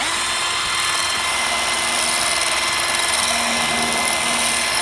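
An electric drill bores through a pane of glass in a home workshop, a loud steady whine that holds at one pitch, close by and without talk.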